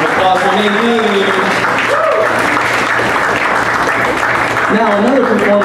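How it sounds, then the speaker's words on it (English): An audience claps steadily and loudly for the singer Nadine at a Broadway Golden Era singers' show at Treblemakers. The dense applause runs throughout, with a voice talking over it at the start and end. "Big round of applause for Nadine"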